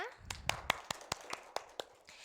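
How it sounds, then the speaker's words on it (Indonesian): Sharp, separate hand claps from a high school classroom in an uneven beat, about a dozen in quick succession, fairly soft and close. "tepuk tangan untuk kita semua"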